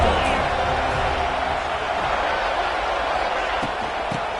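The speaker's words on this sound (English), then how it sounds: "how nice is it to have the home crowd going absolutely bananas?" Home crowd at a college football game, Alabama at Florida State, roaring in a dense, steady wash of noise, with a commentator talking over it.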